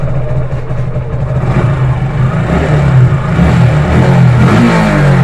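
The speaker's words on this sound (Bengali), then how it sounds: "এখন সাউন্ডটা কিন্তু শুনতে পাচ্ছেন। স্লোতে টপ করে বন্ধ হয়ে যায়, স্লো আরপিএমে নক করে" A Suzuki Gixxer SF fuel-injected ABS motorcycle engine running roughly at low revs, with uneven knocking and a rising rev toward the end, loud and close.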